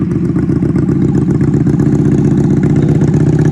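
A motorcycle engine runs steadily at a low, throbbing idle, loud and close, with a constant rumbling clatter throughout and no voices.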